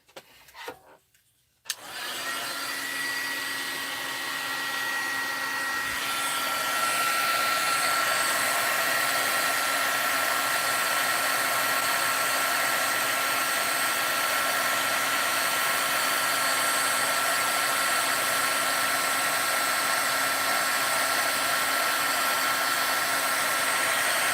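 Heat tool warming puff paint on paper, clicking on after a brief handling noise and then blowing a loud, steady whooshing hum with a constant whine that runs unbroken for over twenty seconds, close by and with no talking.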